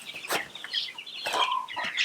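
Young broiler chickens, about three weeks old, move from a brooder into a chicken tractor, clucking and squawking in several close bursts with a brief flutter of wings and no talk.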